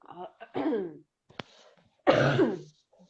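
A single sharp cough-like burst between stretches of talking, with throat-clearing noises nearby; voices speak before and after.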